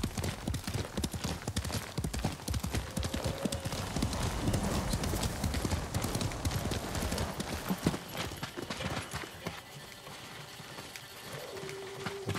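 In Ghost of Tsushima, a horse gallops with loud, rapid clip-clopping hoofbeats, a brief whinny rising partway through, then the pace eases and the hooves fade toward the end.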